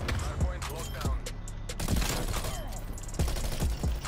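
Rapid bursts of automatic gunfire crack out in a Call of Duty Black Ops Cold War multiplayer match, several loud, sharp volleys spread across the moment, with a player's voice talking over them.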